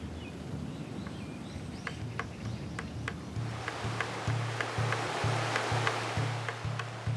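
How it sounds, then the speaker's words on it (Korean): Cool mountain stream water on Songnisan flows steadily with a continuous rushing hiss, and a faint, regular low pulsing sound runs beneath it in the later part. "속리산의 시원한 물소리."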